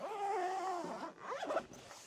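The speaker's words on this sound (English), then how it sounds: "I'll zip it back up" An insulated protective cover on an ICECO JP50 Pro portable fridge is zipped closed: a close, steady zipper rasp that runs for most of the moment, with a second shorter pull near the end and no talking.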